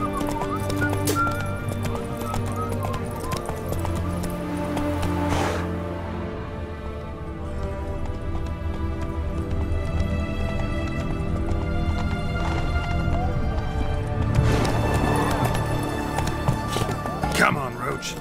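Horse Roach from The Witcher 3 galloping with steady clip-clop hoofbeats and an occasional whinny, set over game music and ambience, continuous and fairly loud, with a person talking now and then.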